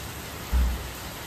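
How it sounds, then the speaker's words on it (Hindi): Heavy rain falls at night as a steady, close wash of noise, with a brief low rumble swelling near the middle; no one speaks. "बहुत तगड़ी बारिश हो रही है"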